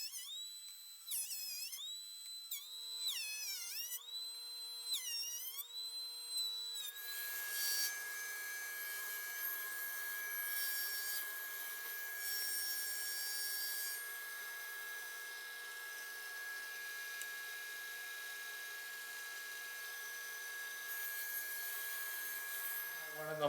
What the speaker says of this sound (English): we're sanding and doing some more sanding